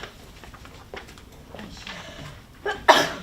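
A single sharp sneeze bursts out near the end of a quiet meeting room scene, loud and close after a few seconds of faint background murmur.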